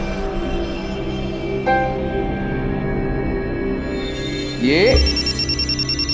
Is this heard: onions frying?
no